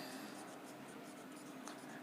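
Pen or marker writing out a class 9 geometry math solution, soft continuous scratching strokes, faint and close, with a steady background hiss.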